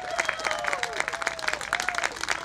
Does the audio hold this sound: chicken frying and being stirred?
no